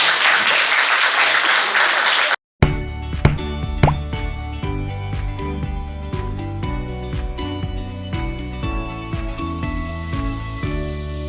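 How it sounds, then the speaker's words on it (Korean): An audience at a youth social participation presentation contest applauds with a dense burst of clapping for about two seconds, then falls silent before music with steady tones takes over. "박수 한 번 더 보내주시면 감사합니다"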